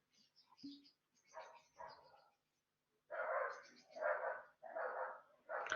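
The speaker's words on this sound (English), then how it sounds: "Sorry about the intense noise in the background of my dogs." Dogs barking indoors nearby, a series of separate barks in uneven bursts, some longer and louder toward the end, heard alone in a quiet room.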